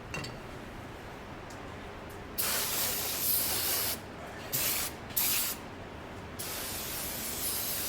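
Brake cleaner sprayed from an aerosol can onto an Evo 8 magnesium valve cover, loud hissing bursts in several spurts separated by short pauses, with quieter background hiss.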